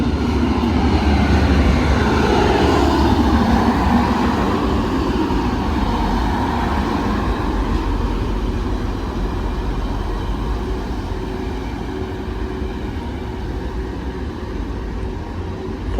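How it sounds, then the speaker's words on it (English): A Class 185 diesel train pulls into a station on the way to Redcar Central, a loud sustained engine rumble and rolling roar that is strongest early and eases gradually as it slows, with no voices. "Train now arriving in is a 185 going to Redcar Central."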